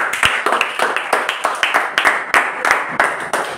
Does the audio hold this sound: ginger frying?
no